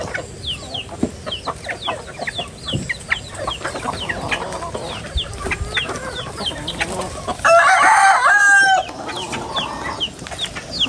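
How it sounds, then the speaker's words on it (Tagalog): A flock of chickens clucking busily nearby, with a loud rooster crow breaking in partway through. "kagulo na ang mga manok"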